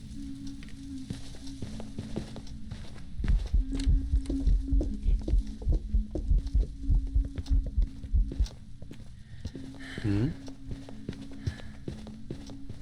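A ghost's footsteps during a hunt in a ghost-hunting video game thud in a rapid, steady series of heavy, close steps over a low electronic hum, fading after several seconds.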